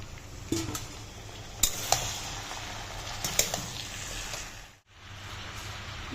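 Mixed vegetables tipped into a frying pan over lightly fried onion, green chilli and aromatics, hissing in a steady, close, broadband sizzle with a few sharper crackles and clatters, briefly dropping away near the end before resuming.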